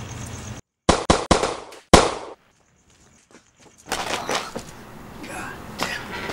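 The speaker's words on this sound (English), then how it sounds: "The first bullet went wild, the second was past my head, and the third clipped me." Three sharp gunshots crack close together in a film noir scene, followed by a quiet lull and then a rustle of movement and muffled voices.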